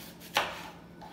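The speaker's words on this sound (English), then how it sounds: "the rest we just chop up in large chunks" A single sharp knife chop through onion on a cutting board, cutting it into large chunks, heard once up close in a quiet kitchen.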